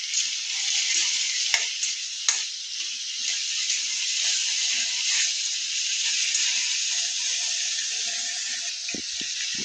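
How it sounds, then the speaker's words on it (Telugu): Brinjal pieces fry in a pan while being stirred, giving a steady close sizzle with a few sharp utensil clicks and scrapes scattered through it and no one talking. "వంకాయ ముక్కలు వేసుకున్నాక బాగా కలుపుకోవాలి"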